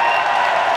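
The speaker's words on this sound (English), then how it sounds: "this Boston crowd is getting into it" Stadium crowd at a Boston indoor track meet cheering and applauding, a dense, loud, continuous roar of clapping and voices filling the whole brief moment.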